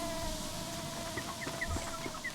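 A goose-moose creature in the video game Don't Starve: Shipwrecked calls with short honking, clucking squawks, quiet and scattered over a soft steady background hum.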